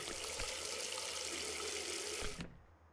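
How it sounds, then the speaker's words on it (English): Running water from a water fountain in a classroom escape video game, a steady broadband splashing flow that holds loud and even for over two seconds and then cuts off abruptly, leaving near silence. "Water fountain."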